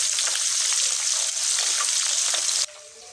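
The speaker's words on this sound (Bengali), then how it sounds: "নাও আমি কড়াইয়ে একদম মাছগুলো ভাজার জন্য ছেড়ে দিচ্ছি।" Fish sliding into hot oil in a wok gives a loud, steady, close sizzle that runs without pause, then drops off sharply just before the end.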